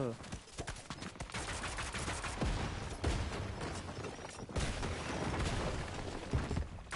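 Pistol gunfire in a video game, with dense rapid shots and impacts layered over busy game noise and a few louder bangs, close and loud, with players talking over it.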